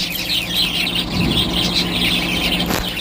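A baby bird with a slightly injured leg, kept among many pet birds, gives high thin chirps and squeaks repeating over a constant background hiss, close and moderately loud with no voices.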